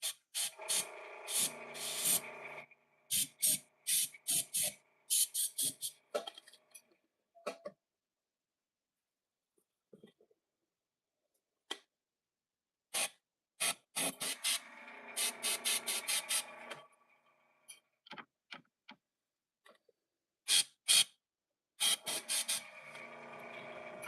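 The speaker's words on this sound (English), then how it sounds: "Grab your airbrush. Now I kind of have to go off screen to do this, otherwise it's going to mess up. And just hit it with some air." An airbrush sprays blue paint in short, sharp hissing bursts separated by stretches of near silence, close and fairly quiet.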